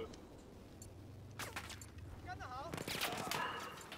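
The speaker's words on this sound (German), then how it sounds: "Hier wird auf mich geschossen." Gunfire crackles in a Battlefield 4 hardcore conquest match on the Silk Road map, with faint distant bursts and rattling shots swelling in the second half amid game effects, mixed low under the background.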